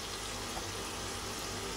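Three kilos of water pour for cooking katsiamaka, a traditional cornmeal dish with leeks and cracklings, making a steady, unbroken gushing rush from start to finish.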